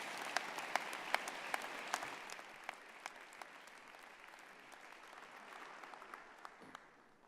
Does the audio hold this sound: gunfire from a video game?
no